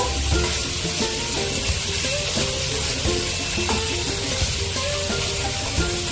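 Two large chopped onions roast in a pan with a constant sizzle, overlaid by repeated rhythmic scraping and clinking as they are stirred, fairly close and loud throughout.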